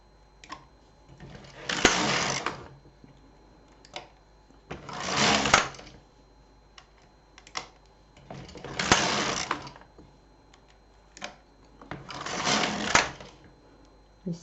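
LK 150 knitting machine knitting rows for socks: four separate rasping carriage passes, each about a second long, evenly spaced with quiet gaps and small clicks between, close and clear.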